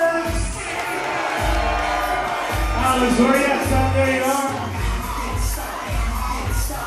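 A crowd cheers and applauds at a live art battle at the Yellowhead Casino in Edmonton. The roar stays loud and continuous, with whoops rising and falling, while a voice calls out over it.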